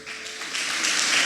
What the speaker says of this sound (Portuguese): Aplauda suas palmas para Jesus.